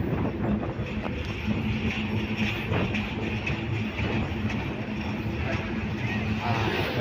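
A passenger train crossing the Jamuna bridge at night, heard from inside a carriage: a steady, loud rumble and rattle of wheels and coach with no pause, running continuously throughout.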